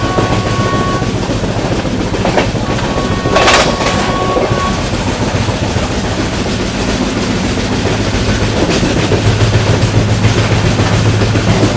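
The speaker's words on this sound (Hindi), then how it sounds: "गजब की रफ्तार में चिपळूण को पार करते हुए दुरंतो एक्सप्रेस।" Duronto Express from Ernakulam to Mumbai LTT speeds past Chiplun on the Konkan Railway, a loud steady rushing roar with rail clatter and brief horn-like tones.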